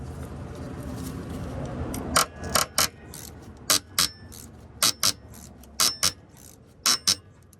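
A ratchet backs off the brake slack adjuster on a Kenworth T680 drive axle, giving paired bursts of metallic clicking repeated at a steady pace, close and clear over a low background rumble, with no talking.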